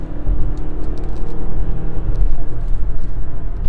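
A 2020 Mazda CX-5 Touring crossover accelerates onto an expressway, its engine giving a loud, steady rumbling whir with road and wind noise building from inside the cabin.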